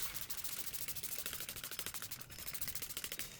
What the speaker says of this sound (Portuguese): E eu vou borrifar aqui no álcool.